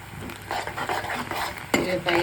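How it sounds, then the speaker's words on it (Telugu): Onions fry in a pan until golden, a soft steady sizzle with intermittent scraping and stirring clatter of a utensil against the pan, plus a sharper clank near the end. "దాన్ని కొంచెం గోల్డెన్ కలర్లో వచ్చేలాగా ఫ్రై చేసుకోవాలి."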